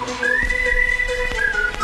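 A shrill whistle is blown in a dance song, sounding long sliding tones and short repeated blasts over a thumping beat.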